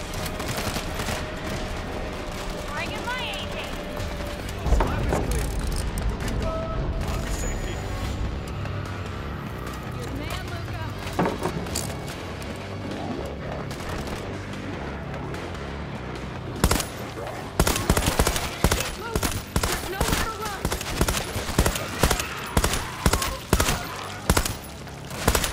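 AK rifle gunfire in World War Z: Aftermath, set in Rome, with steady combat noise and game sounds throughout, then a long run of loud, evenly spaced rapid shots dominating the last third, with brief shouted voices.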